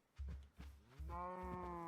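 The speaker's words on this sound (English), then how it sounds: "Herding cows into the barn." Cows mooing in the Minecraft video game, a few short low grunts followed by a longer drawn-out moo, close and clear with no talk over them.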